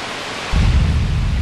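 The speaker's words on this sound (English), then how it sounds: "a terrible storm beset the village" A storm in the role-playing game Grandia II: steady hiss of rain swells into a deep, loud rumble of thunder partway through, dense and continuous.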